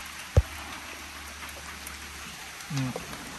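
Steady rain patters across the scene with a soft constant hiss, a sharp knock early on and a faint low murmur near the end.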